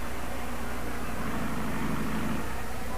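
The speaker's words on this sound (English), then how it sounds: "turbine with its unmistakable jet whine" At the 1968 Le Mans race, a Howmet turbine race car gives off a steady, loud, broadband jet whine with a roaring rush, continuous and unbroken throughout.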